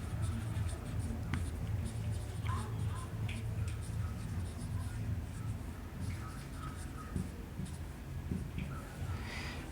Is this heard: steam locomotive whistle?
no